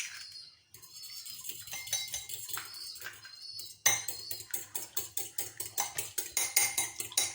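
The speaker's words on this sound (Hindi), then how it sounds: "सबसे पहले अंडा बीट करूँगी" An egg beaten in a bowl with rapid, rhythmic clinking strokes of utensil against the bowl, close and fairly quiet, speeding into a steady beat in the second half with no talking.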